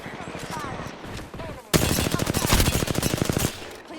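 Rapid automatic gunfire in a first-person battle-royale shooter game erupts loudly after a stretch of talk, a dense burst of repeated shots lasting about two seconds before fading back under speech.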